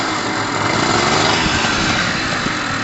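A Pulse Force 50cc motorbike engine idles steadily up close, a continuous buzzing drone with a fast, even putter and no breaks, running warm after a fresh rebuild.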